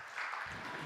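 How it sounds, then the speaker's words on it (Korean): A congregation at a Sunday youth church service claps for the accompanist, a brief burst of dense, steady applause that fills the room. "우리 반주해 주신 선생님께 박수 한번 해주세요."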